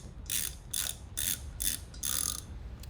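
A 1/2 inch ratchet backs out bolts from a backwater check valve cover on a sewer drain, with five quick bursts of close, crisp clicking separated by short pauses.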